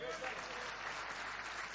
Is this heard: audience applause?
yes